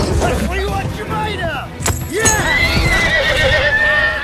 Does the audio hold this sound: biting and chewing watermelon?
no